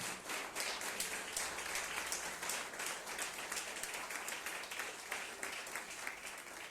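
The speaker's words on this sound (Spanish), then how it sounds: "Dale ese aplauso al Rey." Congregation applause at a Christian church service, a faint, steady wash of many hands clapping that continues evenly throughout with no talking over it.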